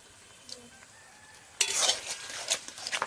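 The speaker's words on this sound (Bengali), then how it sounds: "নাড়তে হবে, ভালো করে নাড়তে হবে" Taro leaves and prawns stirred in a pan over a wood fire, starting quiet before a sudden loud burst of sizzling and scraping that continues in uneven bursts.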